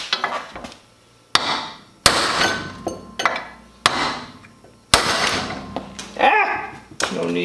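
A hammer strikes a piece of steel during Cutlass repairs, making a dimple: several sharp, ringing metallic blows spaced irregularly, with a voice briefly talking between them.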